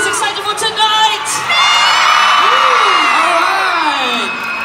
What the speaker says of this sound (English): You guys can have a big round of applause.